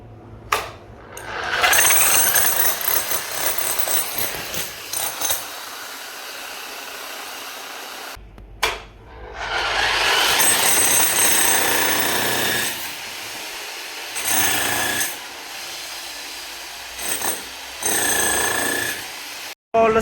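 A power tool breaking material during construction work inside a mall, heard as loud, harsh grinding and hammering bursts with brief pauses and sharp stops, close to the microphone, and no talking.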